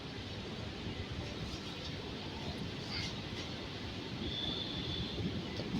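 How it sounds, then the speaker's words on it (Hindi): A Bucharest metro train rumbles into a station, steady low roar and rolling noise with faint squeals of wheels, moderately distant and continuous. "मेट्रो आ गई है"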